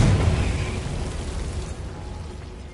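A Confringo spell explodes in Hogwarts Legacy with a loud, close boom that rolls into a long, fading rumble, with no talking.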